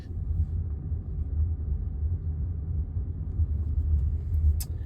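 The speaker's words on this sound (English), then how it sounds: "it's a car that drives itself." Steady low road rumble inside a Waymo self-driving car on the move, a continuous hum with a brief high chirp near the end and no talking.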